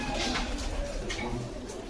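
Bengali deshi pigeons coo in a loft, soft low murmuring calls repeating over a steady background of rustling and faint movement, no talking.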